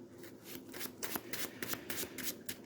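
A deck of Marvel Champions playing cards is riffle-shuffled up close, a series of crisp rhythmic riffles and taps repeating about a dozen times with no talking.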